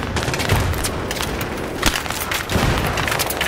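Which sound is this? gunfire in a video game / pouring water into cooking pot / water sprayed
gunfire in a video game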